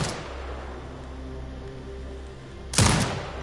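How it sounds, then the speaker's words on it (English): A turret fires once in a video game after a stretch of low ambient hum, a sharp, loud burst near the end that decays quickly. "command the turret to fire"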